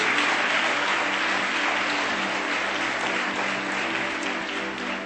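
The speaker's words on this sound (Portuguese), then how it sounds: "Dê um aplauso a ele, queridos." Congregation at a Sunday church service applauds during the sermon, a continuous, moderately loud wash of clapping from many people filling the room for about five seconds, slowly easing toward the end.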